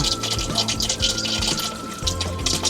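Shower water running inside a camper van: a steady, close splashing and trickling hiss with uneven pulses as the stream flows, continuing throughout with no talk.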